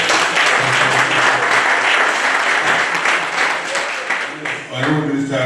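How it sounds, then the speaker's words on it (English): Dense applause from a gathered crowd welcoming an honorable minister at a national power control center, steady and loud throughout before thinning near the end, with a few voices briefly audible. "So you clap for him first."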